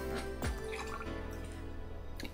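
Liquor poured from a jar into a bar measure in the cyberpunk bartending game VA-11 HALL-A, a short gurgling, dripping pour over steady background music, fairly close and clear.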